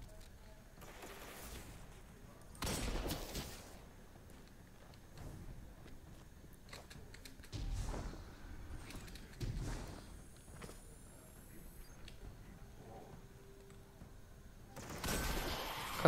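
Several sharp broadband shotgun blasts go off at irregular intervals in a Destiny 2 multiplayer match, each standing out loudly over a low bed of game ambience and footsteps.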